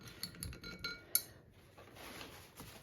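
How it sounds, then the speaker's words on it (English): Small glass and metal clinks as a paintbrush is rinsed in a water jar, with a few light taps and clatters against the jar and a brief louder clink partway through, close and quiet with no talk. "Let me rinse my brush out."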